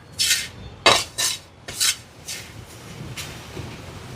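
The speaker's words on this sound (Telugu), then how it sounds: "తీసుకుని కొద్దిగా పోసుకుంటూ కలుపుకోవాలి" A ladle scrapes and stirs through Dharwad peda mixture as milk is added to the pan, giving several loud, separate scraping strokes followed by softer, quieter stirring.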